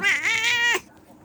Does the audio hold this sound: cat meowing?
yes